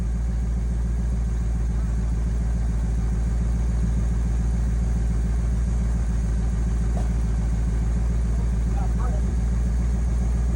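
A 1971 Chevy C10 pickup engine runs at a steady idle, a low, even rumble that holds throughout without revving.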